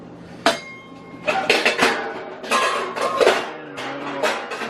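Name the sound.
non-stick pan being handled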